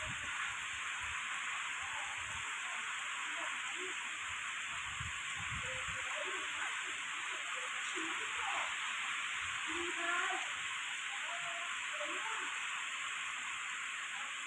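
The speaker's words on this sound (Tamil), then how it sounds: "காற்றும் அதிகமாக இருக்குது மழையும் அதிகமாக இருக்குது" Heavy storm rain driven by strong wind pours down in a steady, loud, broadband hiss that never lets up, with occasional low thumps underneath.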